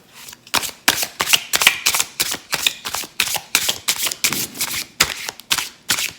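Tarot cards shuffled hard by hand, a fast run of about twenty sharp, crisp riffling bursts in a steady rhythm, close and loud with no talking.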